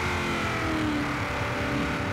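A Honda Civic engine in Forza Horizon 4 holds a steady, buzzing rev before launch, loud and close, droning on continuously without a break.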